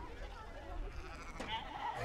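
Sheep bleating close by in a pen during sorting by ear tags, a few wavering calls over a background of people talking and general farmyard handling noise.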